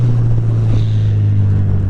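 Suzuki Hayabusa motorcycle fitted with a Leo Vince slip-on exhaust, giving a steady, loud, deep idle drone with no distinct rev rise across the short stretch.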